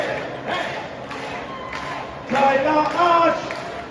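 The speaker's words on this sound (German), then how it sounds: "Hände nach oben. Klatschen." A crowd at a Playa de Palma party on Mallorca claps along in rhythmic bursts under loud ambient chatter and shouting, swelling louder toward the end.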